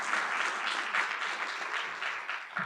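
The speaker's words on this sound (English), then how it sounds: "we can give a round of applause for her" An audience at an event on intensive reading interventions gives a steady round of applause, a dense even patter of clapping with no talk over it.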